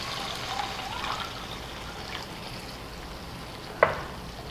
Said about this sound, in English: Now we add in our crushed tomatoes. You also want to add your beef broth.